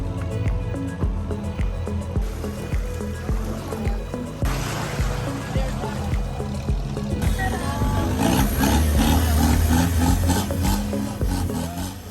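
A loud, steady engine drones with a harmonic hum, broadband rushing and rattling on top, which swells louder partway through, as a longtail boat motors along from Ao Nang to Railay in Krabi, Thailand.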